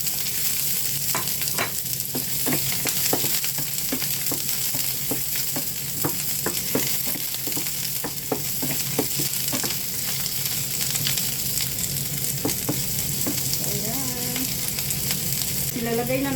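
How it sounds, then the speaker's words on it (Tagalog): Onion and Chinese leek are stir-fried in a hot pan, giving a steady close sizzle broken by repeated spatula scrapes and taps at a fairly regular rhythm. "Ihalo na natin yung onion. Tsaka yung leek. So, yung leek. Chinese leek ito guys."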